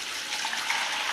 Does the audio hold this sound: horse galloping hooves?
no